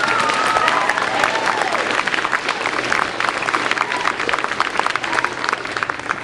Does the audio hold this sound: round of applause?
yes